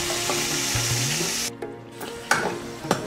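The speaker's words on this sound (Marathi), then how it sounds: "त्याच तेलामध्ये आता आपण मसाला तयार केलेला आहे तो टाकायचा आहे।" Ground masala paste dropped into the hot oil left from frying prawns for kolambi masala over a wood-fired chulha, hissing with a steady loud sizzle that is interrupted by a few sharp clinks of a spoon against the pan.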